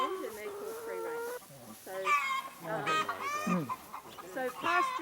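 Chickens cluck and squawk close by in overlapping bursts on a farm, with a rooster-like cry among them and faint talk in the background.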